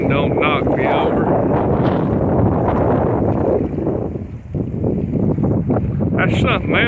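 High winds roar steadily across a microphone outdoors at sunset on a warm Christmas Eve, with someone talking over the constant buffeting and a brief lull partway through.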